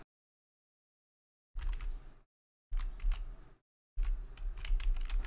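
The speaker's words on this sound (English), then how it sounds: "start typing in the box" Three separate bursts of rapid typing on a computer keyboard while entering section titles into a text box, each run of key clicks lasting under a second with silent gaps between them.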